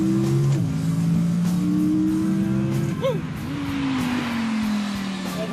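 A naturally aspirated Mercedes-AMG GT R engine revs hard and changes pitch through a rising sweep, loud and close, with a voice talking over the engine note.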